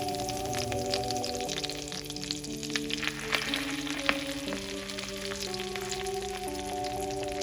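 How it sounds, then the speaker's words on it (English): Chicken sizzles and crackles steadily in melted butter in a hot pan, continuous and close, with faint tonal hum in the background. "Once the butter melts and starts to sizzle, lay in your chicken."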